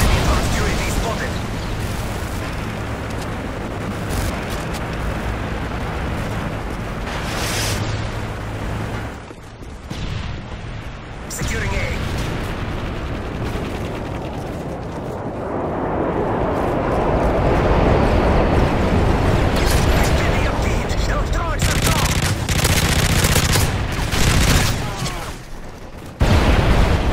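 A strafe run in Modern Warfare 3 multiplayer: a roaring aircraft pass with dense bursts of gunfire and explosions, loud and sustained, rising to a heavy rumble mid-way, with brief radio voices over the action.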